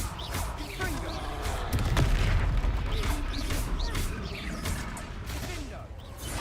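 Repeated spell blasts from the Confringo explosion spell in a Hogwarts video game: a string of sharp, booming bursts and crashes in quick succession, with a voice shouting over the din.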